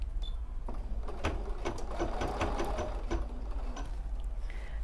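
An embroidery sewing machine stitches couching at medium speed, giving an even mechanical whirring with a regular ticking needle rhythm, close and continuous without speech.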